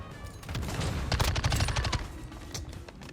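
Rapid bursts of video game gunfire on a player, in the shooter map Shoothouse, rattle on for about three seconds, loud and dense, with overlapping shots and no voices.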